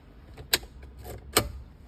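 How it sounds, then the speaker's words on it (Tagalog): A car key turns in a door lock, two sharp metallic clicks about a second apart, close and clear over a quiet background. "And then pipihitin natin yung susi guys."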